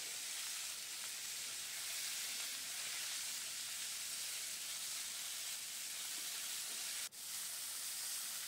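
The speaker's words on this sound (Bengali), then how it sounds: "ফুলকপিগুলো একটু লালচে লালচে করে ভেজে নিলাম" Cauliflower florets frying in oil until reddish, giving a soft, even hiss that holds steady throughout and drops out briefly near the end, with no talking.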